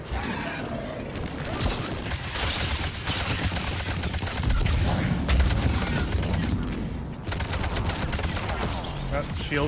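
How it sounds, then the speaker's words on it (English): Mass Effect 2 combat gunfire crackles in rapid, repeated bursts of shots near and loud for nearly ten seconds, with a voice talking over parts of it. "Who's shooting at me?"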